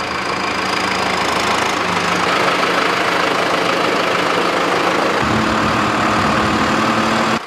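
A farm tractor's engine idles while it is readied for field work at sowing time, a steady low rumble with a faint knocking pulse, close and constant throughout with no talk.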